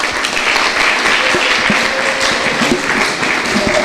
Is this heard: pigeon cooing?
no